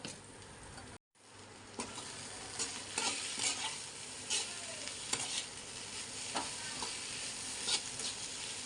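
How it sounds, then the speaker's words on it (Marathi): Leftover chapati pieces fry with soy sauce in a pan, a steady close sizzle broken by repeated scraping stirs, with no talking. "आणि हे सोया सॉस आहे थोडस टाकलं बघा मीठ पण टाकायला लागले मी आता हे फ्राय करून घेते"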